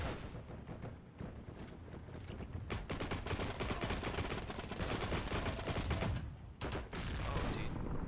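Rapid automatic gunfire from the Heroes and Generals shooter game, a dense, loud, continuous barrage of shots with brief lulls, heard without talk.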